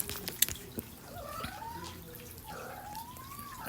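Cats fighting indoors: drawn-out yowling cries rising and falling, with a couple of sharp knocks near the start, moderately loud and fairly close.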